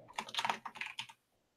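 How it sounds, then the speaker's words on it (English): A computer keyboard being typed on: a short run of close, crisp key clicks in quick uneven rhythm, stopping abruptly into silence. "while Mark is typing"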